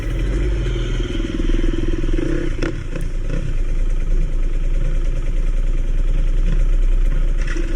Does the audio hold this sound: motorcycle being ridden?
yes